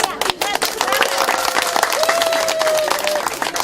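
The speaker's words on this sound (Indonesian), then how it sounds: "Tepuk tangan." A crowd claps and applauds at a traditional Moi wedding ceremony in Sorong, Papua, a dense steady burst of hand claps close by, with voices speaking over it.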